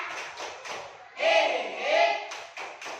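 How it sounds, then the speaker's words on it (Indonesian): A class in an Islamic religious education lesson claps together in a few bursts, with rhythmic hand claps and a swelling crowd cheer in the middle. "Tepuk tangan semuanya."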